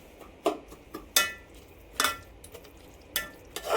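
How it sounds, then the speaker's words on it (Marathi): Onion frying in a pan for a large batch of spicy pav bhaji, with a low sizzle broken by several sharp scraping strokes of a spatula at uneven intervals. "कांदा प्रॉपर छान गोल्डन ब्राऊन होईपर्यंत आपल्याला हा फ्राय करायचा आहे"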